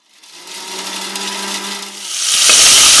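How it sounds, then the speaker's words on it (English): An electric blender's grinder attachment grinds spices for pilau, a steady loud motor whine with grinding noise that swells louder toward the end. "you just put your spices inside your blender, the grinder for your blender, and then you close it up, and then now you grind it"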